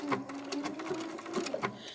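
A sewing machine stitches applique in a rapid, steady mechanical rattle with a whirring motor tone, close by, briefly pausing and restarting.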